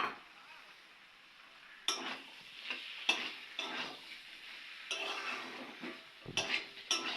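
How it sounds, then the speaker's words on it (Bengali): Banana flower curry with vegetables, bay leaf, turmeric and cumin-coriander paste is stirred in a pan: a soft low sizzle, then bursts of scraping and clinking utensil strokes against the pan, close and moderately loud. "এবারে ওটাকে ভালোভাবে কিছুক্ষণ নাড়িয়ে চাড়িয়ে নেওয়া হবে।"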